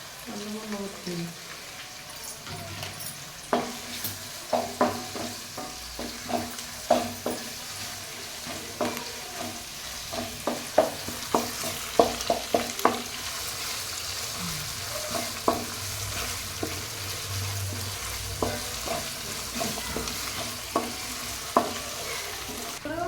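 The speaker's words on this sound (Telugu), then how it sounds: "కలుపుతూ ఉండాలి ఇప్పుడు అల్లం పేస్ట్ వేసుకుందాం" Chicken stir-fried in a pan with ginger paste, a steady sizzle of frying beneath repeated sharp scrapes and clacks of the spoon stirring, close and fairly loud throughout.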